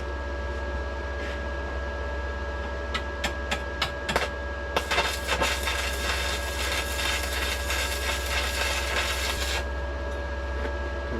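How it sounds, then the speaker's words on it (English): A new welder at work: a few sharp isolated crackles, then a dense, sputtering crackle for about five seconds over a steady low hum before it cuts off. "oh here we go, the new welder. It's quite eager to go, this one."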